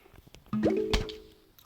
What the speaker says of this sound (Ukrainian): бо це муляж, вони палкою б'ють воду